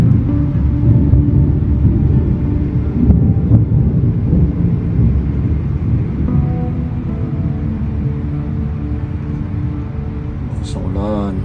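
A loud, continuous rumbling roar of rain and thunder that fills the whole stretch, close and heavy, fading slightly toward the end, with a voice speaking briefly.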